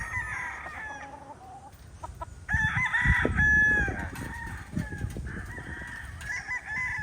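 Chickens and chicks moving about a grassy netted range-area pen, with a rooster crowing and hens clucking close by, several overlapping calls that grow busier and louder midway and keep going to the end.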